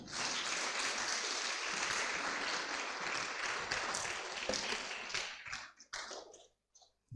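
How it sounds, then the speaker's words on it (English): A graduation ceremony audience claps in a loud, dense burst that carries for several seconds, then thins into a few scattered claps and fades out. "You can still clap."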